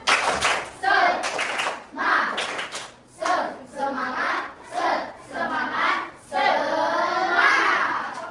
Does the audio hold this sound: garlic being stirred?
no